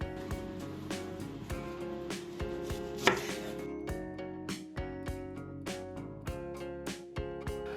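A knife chops an onion steadily on a cutting board, crisp regular knocks repeating in a quick rhythm, close and clear with no talking.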